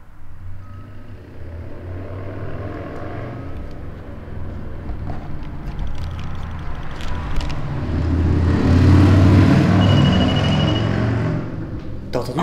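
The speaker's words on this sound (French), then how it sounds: "On a des voitures, des motos qui peuvent passer et faire énormément de bruit." Road traffic of cars and motorcycles passing near an old inn, a steady low rumble that swells loudest toward the end as a vehicle goes by close, with faint voices in the background.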